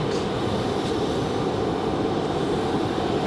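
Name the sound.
Aer Lingus airliner taxiing to the gate at RDU airport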